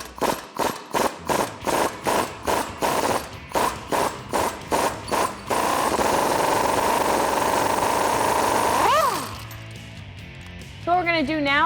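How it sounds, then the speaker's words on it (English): Removing a 21mm track bar bolt with a socket and extension on a Jeep Wrangler JL Rubicon: a run of rhythmic ratcheting clicks gives way to a steady close whirring drone, followed by a pause and some squeaky, creaking metal sounds. "So what we're going to do next is remove our track bar bolt. You're going to be using a 21mm socket."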